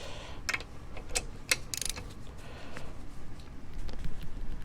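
Ratcheting clicks from a wrench loosening the front caliper bolts on a Honda Rebel 1100 motorcycle resting on a stand, a few sharp metallic ticks close by over a low steady background hum.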